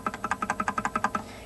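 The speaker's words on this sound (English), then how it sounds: "creates a nice percussive effect, or this one." Rapid percussive taps on the wooden body of a classical guitar, about a dozen crisp even knocks in steady quick rhythm, close and clear with no voice over them.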